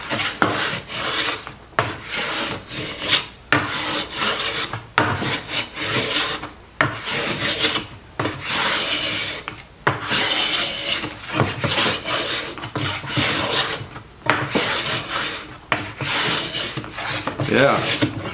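Stanley No. 4 hand plane fitted with a 50-degree frog planing walnut, giving repeated loud rasping strokes with short pauses between passes, close up and steady over the whole stretch.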